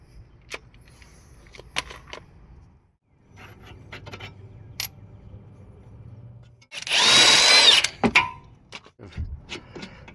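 A power tool loosens strut nuts and bolts on a 2014-2019 Kia Soul during front strut replacement: one loud, close burst of whirring near the end, set among clinks and handling noises of tools and metal parts.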